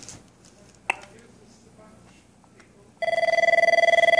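An Avaya IP Office 9500 desk phone ringing with a transferred call: after a quiet stretch with a brief click, a loud electronic ring starts abruptly and pulses in a fast, steady rhythm until the end.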